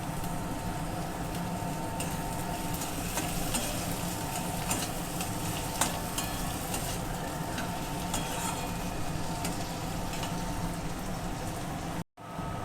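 Chopped onion, ginger and garlic fry in a pan for egg tadka, a steady close sizzle with occasional stirring scrapes and pops, briefly cutting out near the end, with no speech.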